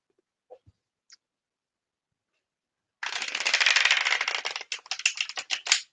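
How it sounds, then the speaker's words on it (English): A tarot card deck is riffle shuffled up close: a dense, crisp flutter of cards, then a few quick bursts and snaps as the halves bridge and settle. "It's a lovely deck to riffle shuffle this and get a nice long bridge."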